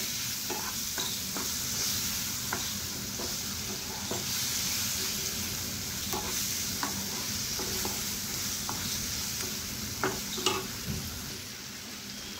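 Chopped fig (anjeer) chutney mixture is sautéed in a pan, a soft continuous sizzle broken by repeated scraping strokes of a spoon, fairly quiet and with no voices.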